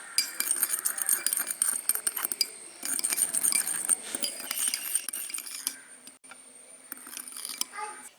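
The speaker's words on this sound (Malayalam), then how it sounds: "ഇത് നമുക്ക് നല്ലതായിട്ട് മിക്സ് ചെയ്യാം" A spoon stirring charcoal powder into milk in a small container, giving quick repeated scraping and clinking taps in a close, fairly quiet run that pauses briefly near the end.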